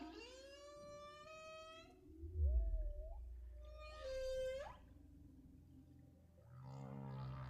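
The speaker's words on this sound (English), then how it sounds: "Each of the bowhead whale songs that you hear, some of them seem fairly similar, but others are so different." Bowhead whale song recorded underwater by hydrophone: a series of rising, harmonic-rich moaning calls with a deep low rumble beneath, a pause, then another upswept tonal call and a rougher buzzing sound at the end.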